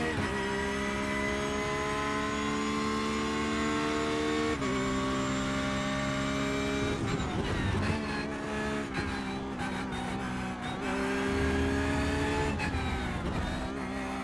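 Porsche GT3 race car in iRacing at the Red Bull Ring, its engine holding a loud, steady harmonic whine, then revving up and down through gear changes and braking in the second half, no talk.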